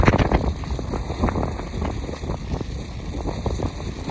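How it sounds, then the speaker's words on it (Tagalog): Strong gusting wind buffets the microphone during a motorcycle ride toward Baguio in rainy weather, a steady broadband roar with the engine rumbling underneath, continuous and close for the whole stretch. "Sobrang hangin, lakas ng hangin."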